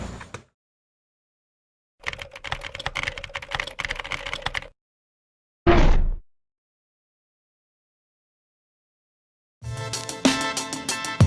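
Close-up typing on a Creative Sound Blaster X Vanguard K08 mechanical keyboard with low-profile, non-tactile switches, in three or four dense bursts of rapid clicking, with stretches of complete silence between them.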